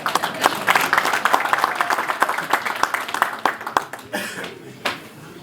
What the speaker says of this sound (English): for which I deserve a round of applause.